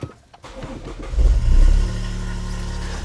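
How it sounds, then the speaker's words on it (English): A car engine cranks and catches in a garage, revving up loudly before settling into a steady, close idle hum. "now with the engine running"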